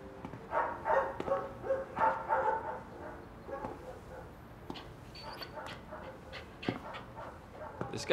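A dog yips, whimpers and pants at close range, with short bursts of barking between the breaths and people talking quietly in the background.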